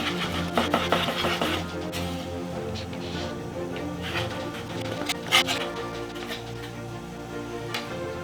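A knife chopping bacon into lardons on a cutting board, a quick run of close cuts early on, then scattered taps and scraping at a moderate level.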